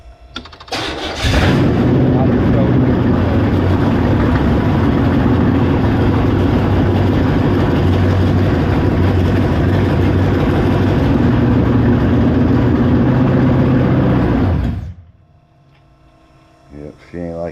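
A carbureted engine on a 2-barrel carburetor runs loud and rough with the choke for about thirteen seconds, then cuts off abruptly, leaving a quiet tail with faint voices.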